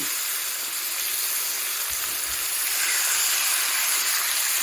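Entrecote steak sizzles loudly on a very hot grill pan outdoors, a steady dense crackling hiss with no talking.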